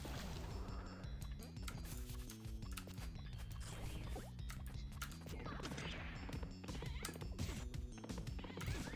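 Horse neighing and galloping hooves in the Pizza Tower video game, set against busy, loud game music that plays the whole way through, with whinnies and clip-clop mixed into the dense soundtrack.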